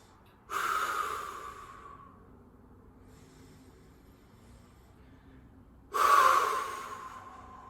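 Two deep, audible breaths taken while holding a forearm plank during a core stability workout, each a loud close exhale several seconds apart with quiet in between.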